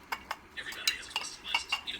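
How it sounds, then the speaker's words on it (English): Onions stirred in a pan with a utensil, a series of sharp clinks and scrapes against the metal in an irregular rhythm, fairly quiet and close, with no voice over it. "blend it in there, and then I just mix it with the other onions."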